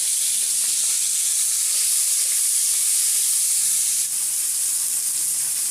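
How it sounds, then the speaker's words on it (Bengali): Bitter gourd frying in oil in a home kitchen hisses steadily and evenly for the whole stretch, a dense close sizzle with no breaks and no voices. "বন্ধুরা উচ্ছা ভাজা হয়ে গেছে"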